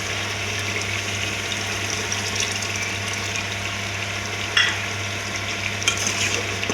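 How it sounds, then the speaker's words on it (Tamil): Tamarind water poured into a pot of brinjal and dried fish tamarind curry, a steady, fairly loud watery gush and hiss running without a break, with a couple of faint clinks near the end. "இந்த பாத்திரத்தில் புளி ஊற்றினா நல்லா இருக்கும்"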